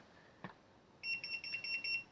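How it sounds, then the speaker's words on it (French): A faint click, then a rapid series of high, clean electronic beeps as a GoFar device switches off, in quick succession, short and bright against near silence. "Vous avez écouté le bip."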